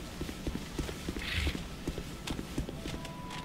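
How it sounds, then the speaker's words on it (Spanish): Pigs in the video game Dark Souls II trot nearby, making a quick, steady run of light hoof-like taps that continues for several seconds. "Aquí están los cerdos. Eso es lo que suena."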